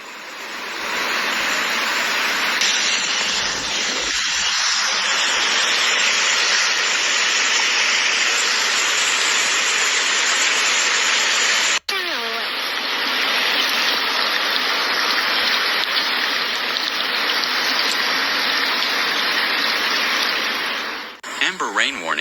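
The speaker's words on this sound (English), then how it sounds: "Stratford Road in Sparkhill resembles a river as Storm Claudia continues to batter the country with torrential downpours" Torrential Storm Claudia rain floods Stratford Road in Sparkhill, a dense, unbroken roar of rushing water and downpour that stays loud and steady throughout, with one brief dropout partway through.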